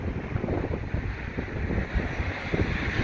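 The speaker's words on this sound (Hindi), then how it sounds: "काफ़ी ज़्यादा तेज़ हवा चल रही है" Strong wind buffets the microphone in continuous rough gusts, with a low rumble of sea waves in the background.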